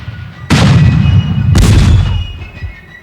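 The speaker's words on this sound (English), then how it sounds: "this quiet community, this gentle landscape, shook with the thunder of cannon and shell" Two heavy booms of cannon fire for the 1781 siege of Yorktown sound about a second apart, each a loud blast with a rumbling decay. No voices are heard.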